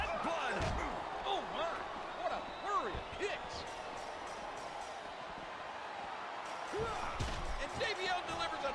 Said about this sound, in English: his fallaway slam.